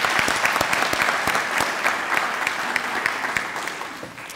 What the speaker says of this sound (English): how about we give your parents and family that are here a round of applause